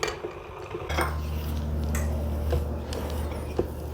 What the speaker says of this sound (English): As the batter comes together, stir in your walnuts.